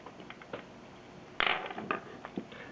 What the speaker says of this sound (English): Just take the bushings out.